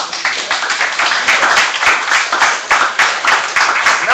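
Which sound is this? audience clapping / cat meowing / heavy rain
audience clapping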